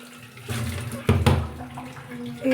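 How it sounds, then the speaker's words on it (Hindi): Water with whole urad lentils splashes and pours briefly into a metal pressure cooker, a short gurgling burst lasting only a moment. "फिर कुकर के अंदर मैं डाल रही हूँ उड़द और पानी।"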